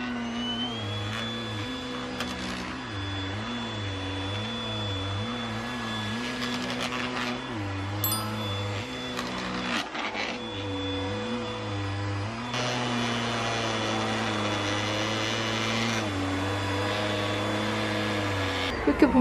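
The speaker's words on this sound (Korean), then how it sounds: "천 청소기? 이불 청소기? 라고 생각하면 돼요." A fabric and bedding vacuum cleaner runs steadily while cleaning a carpet in a one-room apartment, its close, continuous motor whine pulsing slightly as it is pushed back and forth, with a louder shift in pitch near the end.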